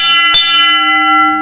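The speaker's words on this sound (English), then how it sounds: "I've got the call bell here and the command bell inside the cage. Whenever I ring those, this is what he gets all the way up there." A mine hoist signal bell in a hoist house strikes once loudly, its metallic ring lingering and slowly decaying over more than a second, with no voices.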